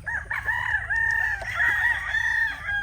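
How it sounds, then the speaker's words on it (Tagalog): A brood stag rooster crows in one drawn-out, wavering call lasting several seconds, close and clear, with faint farmyard background. "nandito yung ating napili na mga brood stag"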